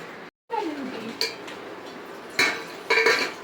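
Metal scrubber rasping across a burnt pan set on a gas flame, with short bursts of scraping and clinking at a steady close distance, quiet gaps between strokes.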